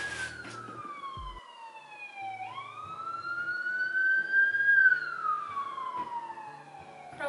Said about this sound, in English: The sirens I hear on a daily